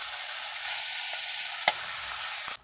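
Tomatoes sizzle steadily in a hot frying pan of oil, a dense crackling hiss with a brief clack of a utensil near the end, no voices.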